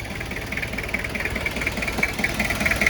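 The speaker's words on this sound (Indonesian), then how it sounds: "Seperti ini suara mesinnya, khas Kijang diesel." A 1999 Toyota Kijang LGX diesel engine idling, a steady close rattling clatter with rapid, even knocking pulses, moderately loud and alone.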